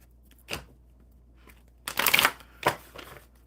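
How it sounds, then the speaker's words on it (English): A deck of oracle cards is shuffled during a live cards session, a few short riffling bursts, the longest in the middle, close and fairly quiet with pauses between. "One more good shuffle for Bob."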